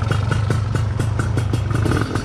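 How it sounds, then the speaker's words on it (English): A Gilera Runner 180cc scooter engine fitted with a smart carb, set too rich, runs close and loud in a steady rattling idle with faint revving pulses. "you're gonna start your bike up"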